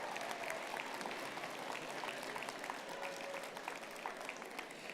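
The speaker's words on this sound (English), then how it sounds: "Wave, cheer, scream, make some noise, and show them how grateful you are" Graduates at a university convocation ceremony cheer and applaud, a distant, steady crowd wash of clapping with faint scattered shouts mixed in, fairly quiet and sustained throughout.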